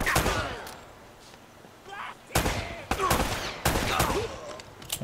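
Bursts of rapid gunfire ring out in the video game Uncharted: Drake's Fortune, loud clustered volleys and single shots with brief gaps, mixed with voices.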